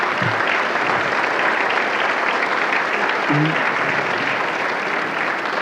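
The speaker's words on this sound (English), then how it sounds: "I would like you to give them a rounding hand of applause." An audience at a Wolf & Raven night event applauds loudly and steadily, a dense wash of clapping that lasts the whole stretch with no voices over it.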